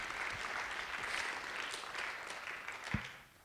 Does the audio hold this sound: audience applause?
yes